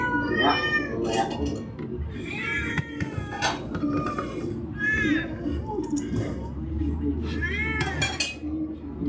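Repeated meowing from a nearby cat, several drawn-out calls in a row, with faint kitchen clatter in the background.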